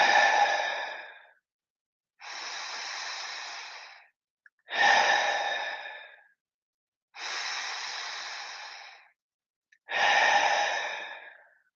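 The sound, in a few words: breathing in through nose, out through mouth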